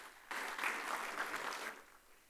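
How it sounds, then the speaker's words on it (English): A conference audience at a tax seminar breaks into a round of applause for a speaker, steady dense clapping that starts abruptly, holds for over a second, then tapers off. "a big round of applause for our speaker"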